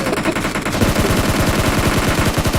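A motorbike bursts into a rapid series of sharp, popping bangs, a loud, steady machine-gun-like rattle that speeds up and keeps going for the whole stretch, close and alone with no voices.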